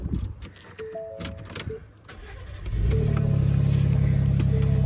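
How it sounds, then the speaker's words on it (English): A 2021 Ford F-150 STX 4WD pickup starting by remote start, with a few faint chimes and clicks followed by the engine turning over into a steady, loud idle that fills the rest of the clip. "you can use your Ford Pass app to remote start the vehicle anywhere"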